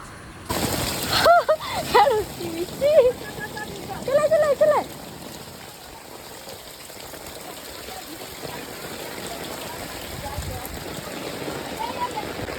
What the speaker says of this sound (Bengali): সেই সকাল থেকে টানা বৃষ্টি হয়ে যাচ্ছে